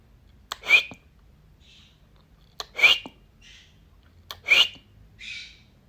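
A pet conure parrot gives three sharp, loud whistling calls at steady intervals, each followed by a softer chirp, close by in a quiet room with faint background hum.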